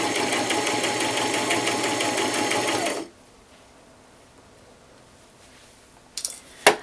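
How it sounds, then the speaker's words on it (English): A sewing machine stitches a nightgown with a steady, close, rapid whirring run for about three seconds, then goes quiet apart from a couple of brief handling clicks near the end. "So you're just going to start sewing."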